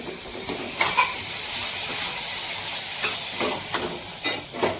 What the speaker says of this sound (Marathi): आता मटकी टाकून घेतो, परतून घेऊ.